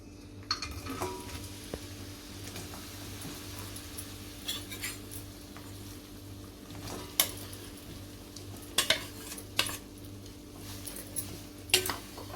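Chopped jaggery melting in a pan, stirred with a metal spoon over a low steady hum, with quiet scraping and sharp intermittent clinks of the spoon on the pan's rim.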